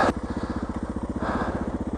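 A Suzuki DR650 motorcycle engine idles roughly in snow with steady, rapid low thumping pulses that are close and loud, briefly rising in pitch midway as if at the edge of stalling.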